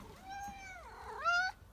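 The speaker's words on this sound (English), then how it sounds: "Kitty cat." A house cat meows twice in a drawn-out, rising and falling call, the second shorter and brighter, loud and close with no talking over it.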